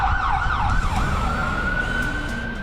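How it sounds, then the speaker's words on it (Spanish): Emergency sirens wail continuously through empty New York City streets during the coronavirus outbreak, a loud rising and falling siren tone over low traffic rumble, with no talking. "Lo único que se siente constantemente son los ruidos de las sirenas"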